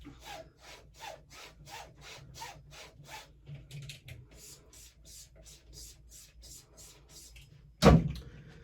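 A straight razor is stropped on a leather strap in about a dozen quick, evenly spaced swipes, each a soft close brushing stroke, followed near the end by a single heavy thump.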